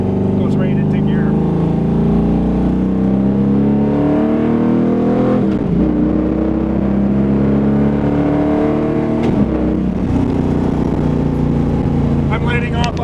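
A 1979 Camaro with a 427 small-block Chevy, tunnel ram and TKO600 manual gearbox revs hard through the gears, the loud engine note climbing, dropping sharply at each shift, then rising again.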